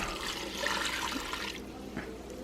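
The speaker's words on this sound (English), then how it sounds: "So we're gonna put some broth in there." Broth poured into a pot of butternut squash soup, a steady gushing liquid splash at close range lasting a couple of seconds, with no talking.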